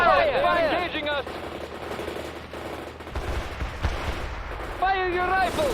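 Gunfire crackles through a World in Conflict battle, with bursts and thumps mixed under game voices and radio-style commands shouting over the fighting.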